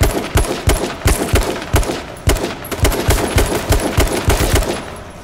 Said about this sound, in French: La dernière balle que je tire, si je le pogne.